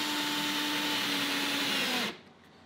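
A motorized leather sewing machine, driven by a low-cost motor and screwed to a workbench, runs with a loud steady whine and hum, then cuts off abruptly near the end, leaving quiet room tone.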